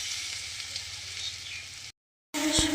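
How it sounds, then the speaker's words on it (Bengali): Drumstick flower fritters fry in a pan of hot oil, giving a steady, bright sizzle that breaks off briefly and then resumes with a louder crackle and a faint clink. "এবারে উল্টো পাল্টা করে ভেজে নেব, হ্যাঁ, উল্টায় পাল্টায় দেব।"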